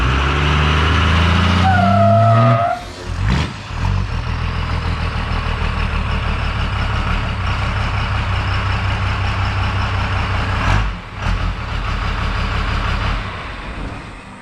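Truck engine idling with a deep steady diesel rumble, close and loud, a brief revving surge early on and a couple of short drops before the low idle carries on.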